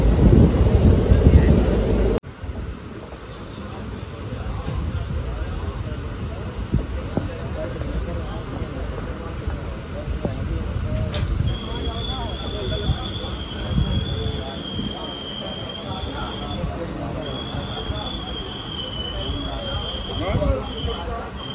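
A Shamli–Delhi passenger train rolls into Aheda railway station, wheels rumbling and squealing on the rails with a sharp sustained screech partway through, recorded from aboard amid wind and faint voices.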